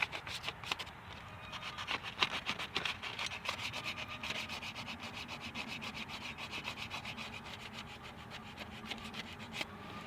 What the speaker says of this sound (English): I used a piece of fine sandpaper and I feel like I got off that residue from the old O-ring gasket